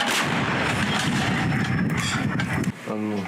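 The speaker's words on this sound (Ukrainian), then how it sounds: "Артилеристам надходить команда «Вогонь». Гармата! Постріл!" An artillery cannon fires a shot at a frontline position: a loud, close blast with a broad rolling boom that fills most of the moment and then decays. A voice is heard briefly at the end.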